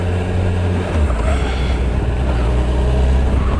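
A Suzuki Hayabusa motorcycle rolls along at low speed, its engine giving a steady, deep, close-up drone that rises slightly in the last moments, with no talking.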